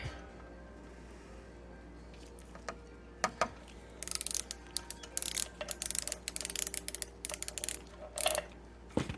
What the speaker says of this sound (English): I'm going to go ahead and pull my feed dogs off first.